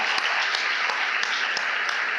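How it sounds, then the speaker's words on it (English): Brisk, close audience applause and clapping at the YMCA Youth For Causes 2022 launch event, a steady wash of many hands with a few sharper claps standing out, no talk over it. "Another round of applause for our White Stars"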